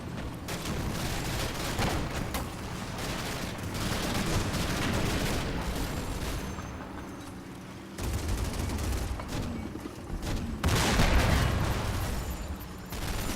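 Mortar fire in the WWII tactical video game Combat Mission Fortress Italy, a continuous barrage of booming impacts and crackling gunfire that swells and fades, fairly loud and distant-sounding.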